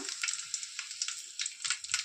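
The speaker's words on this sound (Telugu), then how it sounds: "సాంబారు పోపు పెడుతున్నాను" Garlic sizzling in hot oil for a sambar tempering, a steady bright crackle with small popping bursts and occasional stirring scrapes, close and alone.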